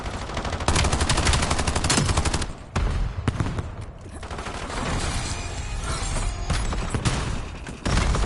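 Bursts of automatic gunfire in Call of Duty Black Ops 7, loud and close, with repeated rapid volleys broken by short pauses and some background speech.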